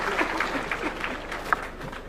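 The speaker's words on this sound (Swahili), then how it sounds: "Tumpigie makofi Mheshimiwa Rais." Applause for the president at a youth gathering in Kakamega, a steady wash of clapping from the crowd lasting a couple of seconds with a few sharper claps standing out, moderately loud and without speech on top.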